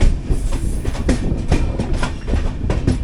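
The 12618 Mangala Lakshadweep Express running on rails, heard from on board as a loud, steady rumble with repeated clickety-clack wheel beats over rail joints.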